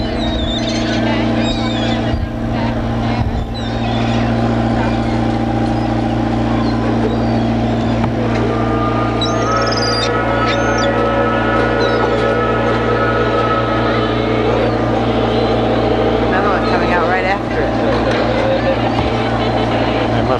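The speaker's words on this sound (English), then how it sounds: "You hear the engines running." Low steady boat engine rumble drones throughout with a constant hum on a lagoon at Disney's Magic Kingdom in 1990, while voices talk intermittently over it.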